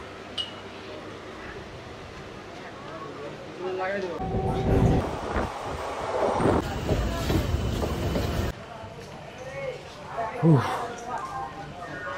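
A fairly empty passenger train heads toward North Bengal, its rumble and clatter swelling louder for a few seconds in the middle before easing off, with people's voices heard over the running noise.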